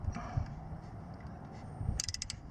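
A ratchet clicks in short bursts while snugging a spark plug on a 2004-2009 Toyota Prius, faint mechanical clicking with a quicker run of ratchet clicks near the end.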